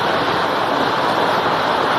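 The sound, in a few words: microburst downpour pouring from the sky onto a stadium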